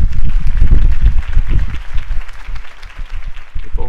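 A crowd applauds a campaign speech in the Batman: The Telltale Series video game, a dense burst of clapping and cheering, loud and close throughout the short stretch.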